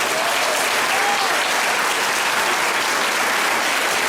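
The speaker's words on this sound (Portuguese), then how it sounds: "Merece uma salva de palmas" A church congregation applauding its youth at a jubilee celebration, a loud, dense and even wash of many hands clapping that holds steady throughout with no voices on top.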